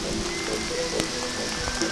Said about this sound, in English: this is like the steady rain and it's been continuous.